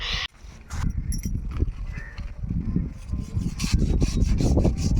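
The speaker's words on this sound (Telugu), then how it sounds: "ఇప్పుడు ఇది రెండో చేప ఇది కటింగ్ చేసుకు తర్వాత మళ్ళీ మన చేప ఉంటుంది" A knife scrapes and chops through a raw fish in a village kitchen, with a steady rough rubbing and cutting texture and a few sharper knocks, close and continuous for several seconds.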